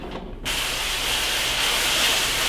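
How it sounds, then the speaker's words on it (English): Emulsion remover is sprayed onto a screen-printing screen, a steady close hiss that starts after a brief quiet moment and runs on evenly to the end. "Simply apply the emulsion remover as you did before to both sides of the screen."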